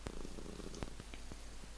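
A contented house cat purring softly and steadily up close, a low continuous rumble with faint clicks, alone without any talk.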